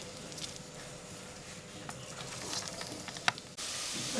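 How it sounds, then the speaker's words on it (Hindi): Chopped onions sauté gently in a pan for a chicken liver dish, giving a soft, steady sizzle and faint stirring scrapes with one sharp clink near the end. "इसको चॉप हुई इसको हम हल्का सा सौते करते हैं"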